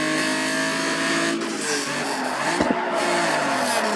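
A Mitsubishi GTO drifts in Need for Speed Underground 2, its tires squealing in long sliding tones over a steady, droning engine, with a brief thump partway through as the slide continues.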